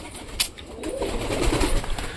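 Pigeons in a breeding cage give low, soft cooing close by, with a short sharp knock near the start over steady background noise.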